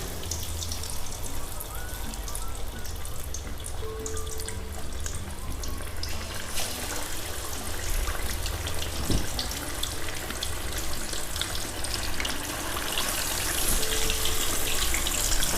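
Fish pieces for a spicy Lahori-style fish fry hit hot oil over a medium flame, producing a steady, close, broadband sizzling hiss that swells slightly toward the end, with no one speaking.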